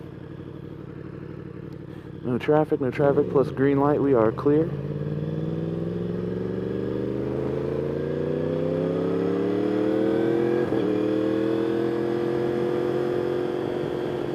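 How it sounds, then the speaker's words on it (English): Exhaust of a 2021 Yamaha R1 sport bike with a Woolich tune, heard while riding: a brief burst of rapid revs, then a long steady pull climbing through the gears, loud and close, with a rider talking early on. "Oh, listen to that exhaust"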